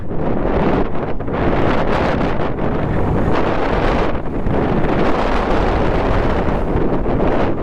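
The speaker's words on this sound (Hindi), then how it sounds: "भाई तूफान है आगे, तूफान है तगड़ा तगड़ा तूफान है।" Strong storm wind buffets hard on the Khardung La mountain pass during a motorbike road trip, roaring and gusting loudly against the microphone without any voices.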